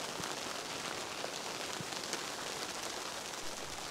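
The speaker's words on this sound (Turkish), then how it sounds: "Vallahi karla karışık yağıyor şu an." Sleet, a mix of snow and rain, falls steadily at an outdoor New Year's camp in a heavy downpour, making a constant close hiss with faint scattered ticks and no voices.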